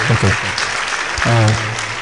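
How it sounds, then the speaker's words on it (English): An audience at a university lecture gives a round of applause, a soft wash of clapping heard under a voice speaking over it. "Please let us give him a special round of applause"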